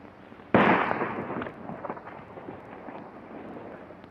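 Gunshots ring out in a 1939 western film: one loud, sharp blast with a long ringing tail, then quieter scattered reports fading into the distance.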